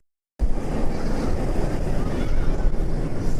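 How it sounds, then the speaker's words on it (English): Superman Ultimate Flight roller coaster roaring past at night, a sudden loud rush of wind and rumbling track noise that stays steady and close for several seconds, with no talk. "This is the sound of Superman Ultimate Flight."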